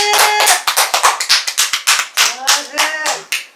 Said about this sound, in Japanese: 拍手してる、ほら